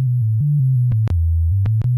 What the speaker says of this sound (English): let's select sine wave